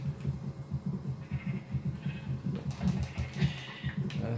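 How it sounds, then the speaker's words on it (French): Sheep bleat in the Xbox 360 version of Minecraft, a steady run of pulsing, wavering bleats at moderate level with faint clicking underneath and no talk. "Ah si, il y a un deuxième mouton noir."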